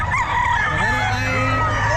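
Boston line gamefowl rooster, about eleven months old, gives one close, loud crow over a steady background hum.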